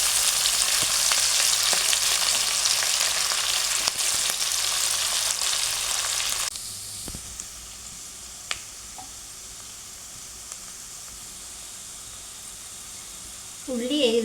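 Four chopped onions sauté in hot oil, giving a loud, dense sizzle that drops abruptly to a quieter crackle halfway through, with occasional stirring clicks and a brief noise near the end.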